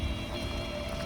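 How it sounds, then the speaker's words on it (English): Steady rain falls in a dense, even wash of hiss and patter on outdoor surfaces, filling the whole moment with no voices. "It's raining everywhere."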